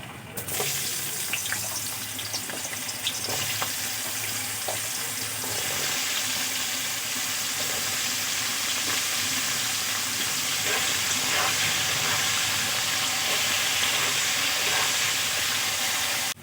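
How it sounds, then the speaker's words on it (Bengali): Potatoes fry in hot oil, giving off a loud steady hiss and sizzle with faint crackles that holds throughout. "এখন আমি আলুগুলো খুব ভালো করে ভেজে নেব"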